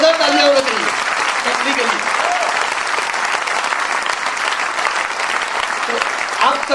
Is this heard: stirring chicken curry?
no